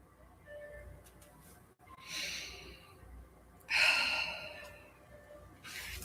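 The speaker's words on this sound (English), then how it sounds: "Take a deep breath." A deep breath taken slowly: a soft inhale, then a fuller, louder breath in and a long audible exhale, close and quiet, with no one talking.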